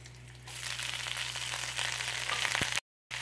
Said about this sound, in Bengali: ফোড়নটা একটু নাড়িয়ে নিয়ে শাকটা দিয়ে দেবো।